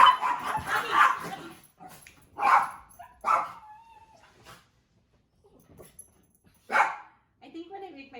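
Dogs bark indoors in several sharp bursts separated by pauses, with a voice talking at the start and a few quieter yips.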